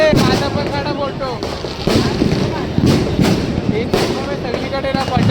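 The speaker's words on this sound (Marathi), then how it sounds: "सगळीकडे ना फटाक्यांनाच आवाज येतोय" Firecrackers and fireworks burst repeatedly at a Diwali Deepotsav celebration in Shivaji Park, Dadar, with sharp irregular bangs over a dense crowd hubbub and voices talking nearby.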